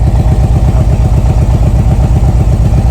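A Harley-Davidson motorcycle engine, hot from riding, idles close by with a rough, uneven, single-cylinder-like thumping, steady and loud throughout.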